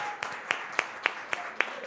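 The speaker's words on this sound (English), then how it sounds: "let's give him a round of applause real quick" A short run of about seven evenly spaced, crisp hand claps at a steady rhythm, fairly faint, from a small gathering at a conference event.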